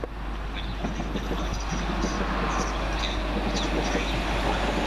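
Great Northern train running through St Neots station: a steady low rumble of wheels and motors with faint clatter, moderately near and continuous throughout.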